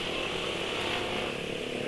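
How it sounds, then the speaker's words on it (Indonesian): A motorcycle engine running on Castrol GPS oil hums smoothly and steadily, loud and close, while the bike is ridden. "Kondisi suara mesin habis dipakai berangkat tadi halus ya."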